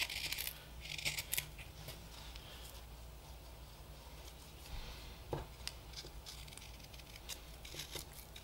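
Carving knife making finishing cuts across the grain inside the bowl of a green wood spoon. Faint, close scrapes and slicing rasps come in short irregular strokes, with no talk.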